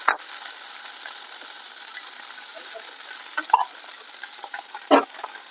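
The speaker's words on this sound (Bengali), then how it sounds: "এবার দিয়ে দেবো আলু সেদ্ধ করে রেখেছি সেই আলুটা" Boiled potatoes stirred and fried in a pan with onion and garlic for a banana-flower chop: a steady, fairly soft sizzle with occasional spoon knocks and scrapes, a couple louder near the end, no voices.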